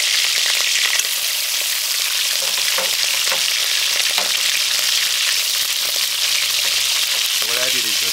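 Cow's liver frying in a pot gives a steady, close sizzle with bubbling and occasional stirring scrapes, continuous throughout with no talk.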